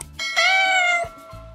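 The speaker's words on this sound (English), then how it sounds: "Can you say, meow, meow?" A cat gives a single clear, drawn-out meow, loud and close, with a slight falling pitch at the end and no other sound around it.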